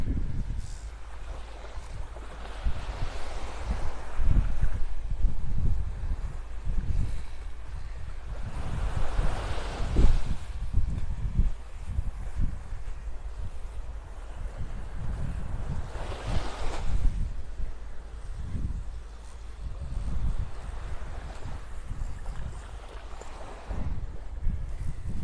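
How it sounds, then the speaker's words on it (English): Strong wind on Vanderbilt Beach in North Naples, Florida buffets the camera with heavy low rumbling gusts. Breaking surf swells underneath at intervals of a few seconds, and the roar goes on without a break. No one speaks. "that wind's giving the gimbal a run for its money"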